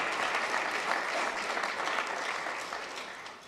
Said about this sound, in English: Please, let's give a round of applause for our international partners.